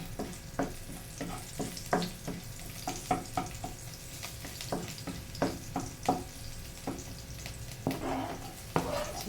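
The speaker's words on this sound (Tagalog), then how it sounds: "So, gisa na tayo" Garlic and onion sizzle in hot oil while being stir-fried for kangkong. A steady frying hiss runs under a rhythmic series of spatula scrapes and taps against the pan, close and moderately loud.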